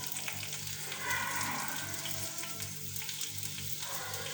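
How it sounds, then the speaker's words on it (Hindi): White rice frying in a pan for sweet mutanjan, a soft, steady sizzle with light crackle and faint stirring, heard alone and fairly quiet. "इनको हम थोड़ा सा फ्राई करेंगे।"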